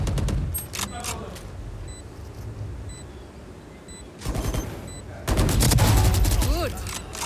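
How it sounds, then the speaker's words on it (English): Valorant match action with bursts of rapid gunfire and sharp in-game effect sounds, including a swarm grenade, heard close and loud in clustered volleys separated by quieter gaps, with a commentator's voice talking through it. "Swarm grenade out."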